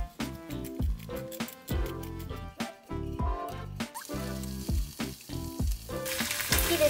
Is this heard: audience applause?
no